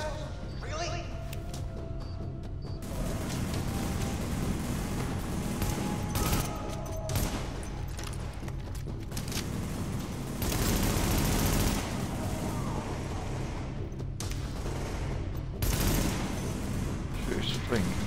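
Gunfire in The Division video game: dense bursts of automatic shots and booming impacts run through a noisy firefight, with players talking over the action throughout.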